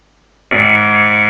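A loud, harsh computer alert buzzer cuts in abruptly and holds a steady, harmonically rich tone without pause, with no talking over it.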